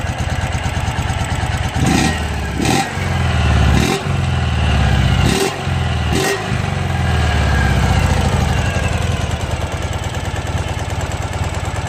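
A Baja minibike engine fitted with a muffler runs loud and close, a steady chugging idle broken by several quick revs early on before settling back to an even drone.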